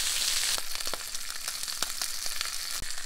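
Sea bream roasting in a pan sizzles and crackles steadily, with a few sharper pops and spits breaking through the constant frying hiss.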